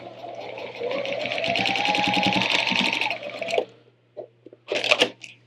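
A sewing machine stitches pieces of a cathedral window quilt together in a steady, fast whirring run of about three seconds, followed by a few faint clicks and handling noises.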